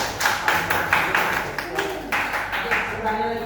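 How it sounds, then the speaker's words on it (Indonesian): A university class audience gives Jeffrey a round of applause: a quick series of rhythmic, moderately loud hand claps in a room, with voices mixed in underneath. "Tepuk tangan buat Jeffrey."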